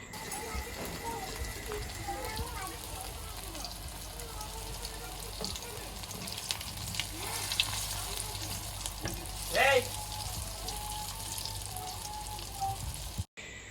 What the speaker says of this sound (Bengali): তেল খুব বেশি গরম করে নিয়েছি নিয়ে তারপরে যে দেখেন তেলের ভিতরে ছেড়ে দিলাম তো এখানে ভাজছি